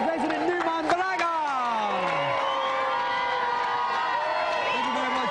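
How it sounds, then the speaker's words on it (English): A 1994 GamesMaster television studio audience cheers and whoops for Baraga, a loud, sustained crowd roar with excited shouts running through the whole stretch. "Round of applause for our resident newman, Baraga."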